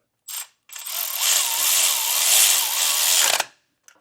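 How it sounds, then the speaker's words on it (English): A power ratchet runs a skid plate bolt home on a 2015 Toyota 4Runner, with a short burst and then a loud, continuous whirring buzz for about three seconds before it stops. "Now we'll just get our 2 front bolts installed, and then we'll go through and tighten and torque all of these"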